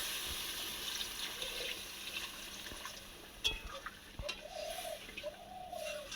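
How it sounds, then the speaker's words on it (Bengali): Water poured into a pan of rohu fish curry cooking with potato and pointed gourd, a soft steady trickle and splash over low kitchen background noise. "এবার আমি জল দিয়ে দিই।"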